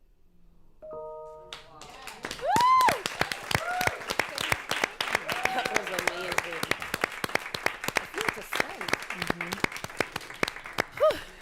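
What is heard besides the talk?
audience applause after a poem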